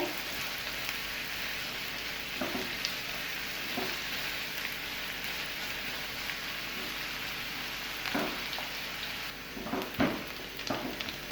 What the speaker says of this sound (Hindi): हम इसको भी तकरीबन 1 से 2 मिनट के लिए फ्राई करेंगे आलूओं के साथ, ताकि जो प्याज है वो थोड़ी सी सॉफ्ट हो जाए